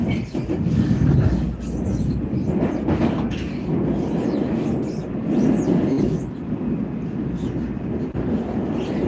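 A metro train rumbling through a station of the Moscow metro at night, a loud, steady low roar with wheel squeal and clattering rising and falling.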